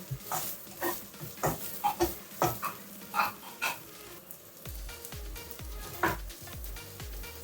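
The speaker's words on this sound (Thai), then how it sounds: "ผัดพอประมาณนะคะ" Spaghetti with vegetables and sausage stir-fried in a pan: a soft continuous sizzle with a series of clattering scrape-and-toss strokes, close and moderately loud, no voices.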